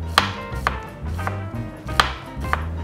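A knife chops onion into thin slices on a board, giving about six crisp, evenly spaced knocks close up with no voices.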